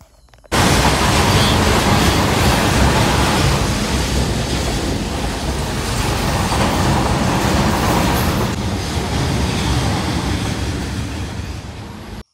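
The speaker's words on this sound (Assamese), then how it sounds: "ট্ৰেইন ৰাস্তাত ট্ৰেইন আহিছে আমি ৱেইট কৰি আছোঁ" A train rumbles past on the tracks, a loud, steady roar of wheels and carriages that holds for several seconds, then begins to fade.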